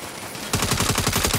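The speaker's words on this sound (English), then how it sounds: "Why am I seeing gunfire at the back of that convoy?" Rapid automatic gunfire erupts in a Saints Row video game, loud and close. A burst of evenly spaced shots begins after a brief quieter moment and continues to the end.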